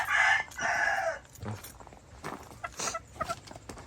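A Kelso chicken clucks and crows, with loud calls at the start followed by quieter scattered clucks and rustling nearby.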